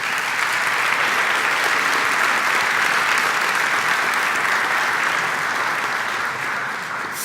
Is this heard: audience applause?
yes